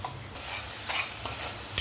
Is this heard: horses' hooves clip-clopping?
no